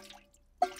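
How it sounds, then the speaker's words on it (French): A single cartoon water drop falling from a leaking roof, one bright plip after a near-silent pause, with a faint hum in the background. "Vous voyez, ça goutte depuis un moment déjà."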